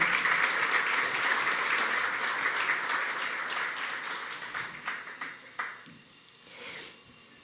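An audience at a conference forum applauds loudly, the clapping holding steady before thinning out into a few scattered claps at the end.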